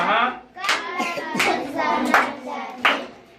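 Schoolchildren in a classroom clap in a few short bursts, their hands sounding close and bright while young voices chant along over the clapping.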